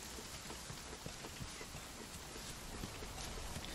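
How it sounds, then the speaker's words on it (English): Steady rain in Monster Hunter: World patters and pelts down in a dense, even hiss, with occasional heavier drops standing out against the constant wash. "Oh yes, it is raining."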